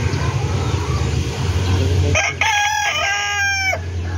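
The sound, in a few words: chicken, rooster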